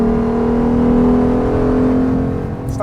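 A 2014 Porsche Panamera 4S with a twin-turbo V6 runs with a steady mechanical whine over a loud, continuous engine drone that holds nearly constant throughout.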